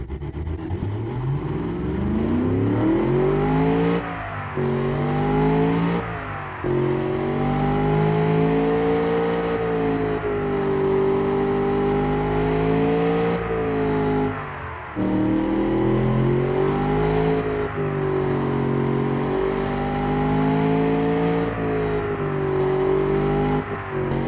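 A 4.6L car engine revving, repeated throttle blips rising and falling in pitch, loud and close, with short pauses between surges over a long stretch.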